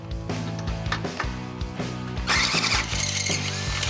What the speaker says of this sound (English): I have to drill the shock hole out to about 3/4 of an inch